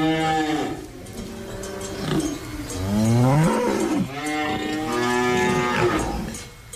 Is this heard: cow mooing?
yes